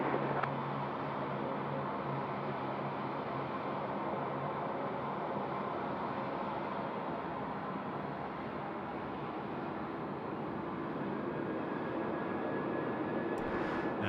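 Aircraft engines roar steadily at Sydney Airport runway 16 right at night, a continuous broad rumble held for the whole stretch with no talk.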